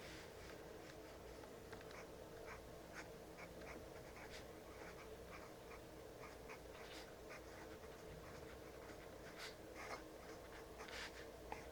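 A Leonardo Momento Zero fountain pen, a very wet writer laying down a broad line, scratches softly across paper in faint, irregular strokes over a steady low hiss.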